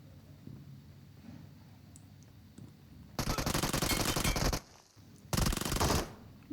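Two sustained bursts of Uzi submachine-gun fire in a first-person shooter, loud and close, each lasting about a second or more, separated by a quieter gap over low game ambience.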